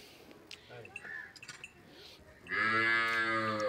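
A Friesian cross cow gives a loud, long, close moo in the second half, after a stretch of shuffling farmyard noise and faint clinks.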